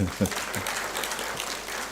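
Audience clapping at a procurement and supply chain heads forum, a scattered burst of applause following a few loud hand claps at the start.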